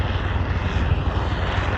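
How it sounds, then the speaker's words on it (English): A helicopter flying overhead near a beach, its engine and rotor a steady, loud roar that fills the whole stretch without any voice. "The helicopter."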